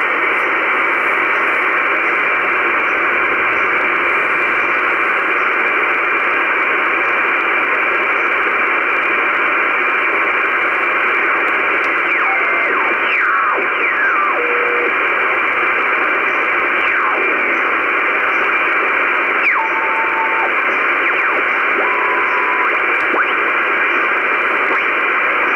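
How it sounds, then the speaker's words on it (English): Static hiss from 50 MHz sporadic E radio reception, steady and loud throughout, with faint wavering tones and brief chirps drifting through the noise. "A little demonstration of what you can hear if you're patient and you try some 50 megahertz propagation"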